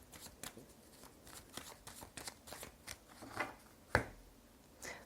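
Tarot cards riffled and cut by hand, soft papery shuffling bursts in irregular rhythm ending in a sharper slap as the deck is cut, close and quiet with no talking.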